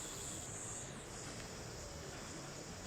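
A faint, steady drone of cicadas fills a hot summer street scene in the Steins;Gate video game, a continuous high, buzzing chorus with no breaks.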